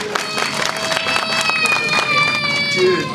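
A live theater audience at a Turtle Talk with Crush show stomps and cheers together, a dense continuous crowd roar with scattered shouts and thumping steps, loud and close, under a steady wash of voices.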